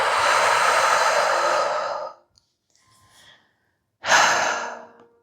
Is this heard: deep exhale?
yes